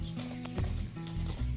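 A well-regarded ulak (kok-boru) horse, heard up close in a brief burst of hoof clops with a snorting, whinny-like voice mixed in.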